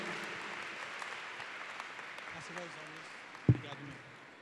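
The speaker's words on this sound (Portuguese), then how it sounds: "Vamos aplaudir ao Senhor." An audience at a Christian conference session claps quietly and continuously while voices murmur through the room, with one sharp knock standing out near the end.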